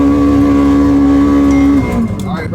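A Polaris Xpedition UTV engine holds a loud, steady high-RPM drone with a strong buzzing tone from close by, then drops off and eases down near the end.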